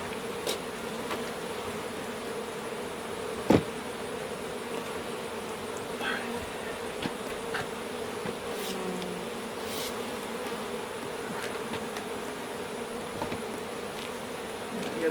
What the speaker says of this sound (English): Just try and get all the bees off.